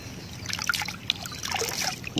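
Hands are washed in the water of Taal Lake, giving soft, irregular splashing and trickling at close range with small drips and sloshes.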